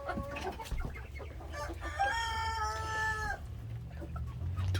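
A rooster crows with a long, drawn-out call in the middle, while hens cluck and chatter around it close by.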